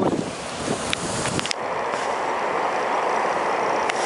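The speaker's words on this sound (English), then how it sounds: "A little bit of wind like" Steady outdoor wind buffets the microphone in a broad, continuous rush, with a few brief gusty thumps early on and no talking.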